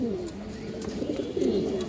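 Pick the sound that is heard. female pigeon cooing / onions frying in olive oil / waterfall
female pigeon cooing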